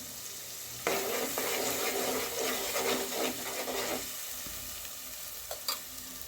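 Onion paste sautéing in hot oil for a brinjal gravy, a steady close sizzle with stirring scrapes that starts abruptly and runs for a few seconds before easing off, with a couple of brief knocks near the end.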